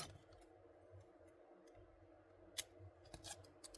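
Scissors snipping material while a fishing nymph is tied, a few quiet, close cutting clicks over a faint room hush.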